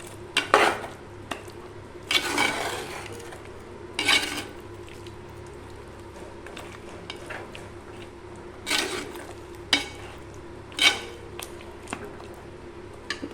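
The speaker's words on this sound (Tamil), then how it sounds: "இந்த மசாலாலாம் கறியில் பிடிக்கிற அளவுக்கு நல்லா கலந்து விட்டுக்கலாம்." A spoon stirs masala through a pot of country chicken curry, giving repeated scraping and clanking strokes against the metal over a low sizzle, close up with no talking.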